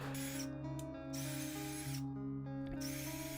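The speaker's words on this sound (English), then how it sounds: "Since the wood is relatively thin, I drilled pilot holes in first" Power drill boring pilot holes in thin wood in a home wood shop, with steady whining motor bursts separated by brief pauses, fairly close.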